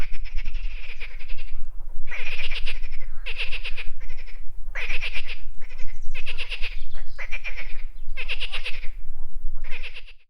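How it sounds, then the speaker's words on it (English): Spring frogs chorus on the bank of the Inguri River in Mingrelia, Georgia: loud, rhythmic bursts of rapid pulsed croaks repeat about once a second in a dense, continuous chorus. "Springtime for frogs."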